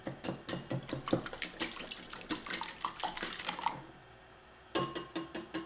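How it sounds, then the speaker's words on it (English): Eggs and vanilla extract being whisked in a small bowl, a quick rapid clicking and tapping of the whisk against the bowl, steady for several seconds, pausing briefly, then resuming. "whisk those together"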